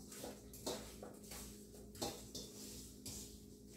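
Chicken wings are tossed with a handful of seasoning in a bowl, giving soft repeated clattering knocks and scraping roughly once per second, quiet and close, with no one speaking.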